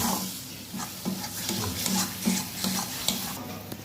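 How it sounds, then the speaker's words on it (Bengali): Soybean chunks and fat being fried and stirred in spices in a pan, a steady close sizzle broken by rhythmic scraping strokes of a spatula roughly every half second. "চর্বি দিয়ে এবার একটু ভালো করে কষাবো।"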